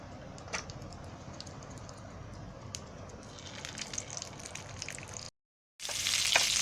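Stuffed vegetables (tomatoes and brinjal, coated in gram flour) frying in oil in a full wok, a steady crackling sizzle with faint pops throughout, briefly cut off before returning louder and brighter at the end.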